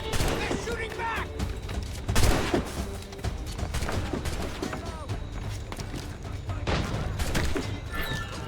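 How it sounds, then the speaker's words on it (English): A chaotic musket volley during a battle in the video game Assassin's Creed Rogue, with dense cracks, bangs and crashes layered over shouting voices and constant background din. "They're shooting back!"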